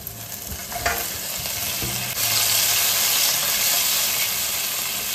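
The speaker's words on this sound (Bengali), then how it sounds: "তো ওর মধ্যে যে তেলটা আছে এটা ফুলকপিটা ভেজে নিচ্ছি।" Cauliflower pieces frying in hot oil in a wok give a steady, loud hiss and sizzle, with a few clinks of stirring near the start, and no one speaks.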